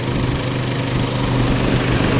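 An Isuzu Alterra radiator fan running after its relay is plugged in, a loud, steady whooshing whir close by with a low engine hum underneath, unbroken throughout.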